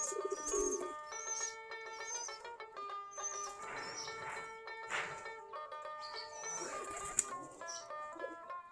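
Giribaj pigeons gathered near their coop coo softly, faint and low, over a backdrop of sustained tonal sounds.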